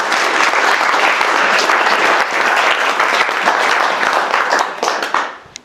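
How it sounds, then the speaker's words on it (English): An audience applauds to welcome MP Ben Everitt onto the stage at a House of Commons event, with dense, loud clapping that holds steady and then tapers off to a few last claps. "Please give him a round of applause."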